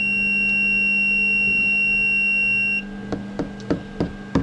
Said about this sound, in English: but you hear that alarm going off